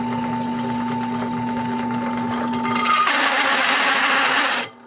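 An inexpensive, low-powered drill press motor hums steadily with a tonal whine, then the pitch shifts and a harsher grinding roar takes over before stopping abruptly.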